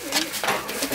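Young pigeons coo softly inside a loft in Northern California, a few low, close throaty calls in quick succession.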